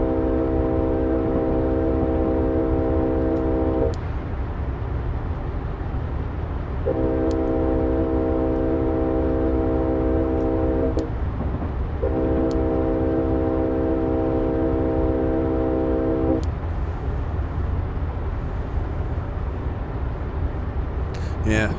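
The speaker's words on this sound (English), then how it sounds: "Definitely don't like the horn sound on this locomotive." Union Pacific locomotive horn in a train simulator game, sounding in three long, steady blasts with short gaps, fairly thin and light in tone over a constant low rumble of the train.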